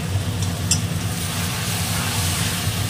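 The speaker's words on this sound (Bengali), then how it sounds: "এবার আলুর সাথে একটু ভালো করে কষিয়ে নেব।" Potatoes fry with meat in a hot pan, giving a steady, close sizzle with a low hum underneath and a few faint clinks of stirring. Nobody speaks.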